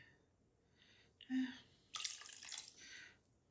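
Water poured into a soup pot for a ham and bean soup, a brief faint splashing and trickling that is quiet and close, with a short clink just before it.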